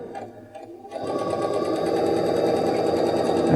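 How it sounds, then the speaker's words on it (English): A sewing machine stitches fabric strips for a throw pillow; after a brief pause it revs into a steady, close, whirring run of rapid needle strokes that continues to the end. "just a nice easy stitch to keep your fabric lined up with that line marked on your lining fabric"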